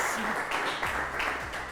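An audience at a school achievement celebration claps for an award winner, a dense, steady patter of many hands that holds throughout at moderate loudness.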